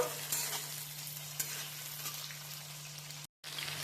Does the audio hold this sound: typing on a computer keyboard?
no